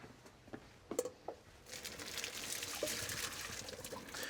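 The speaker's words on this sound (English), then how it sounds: "so we're just going to strain the pasta off" Water drains off freshly cooked capellini pasta being strained, faint at first with a few soft splashes, then a steady low rush of pouring liquid.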